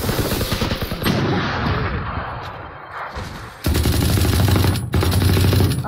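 Rapid automatic weapon fire in the shooter game Valorant: loud, dense bursts of gunshots nearly filling the clip, with a short lull in the middle before the firing resumes at full strength.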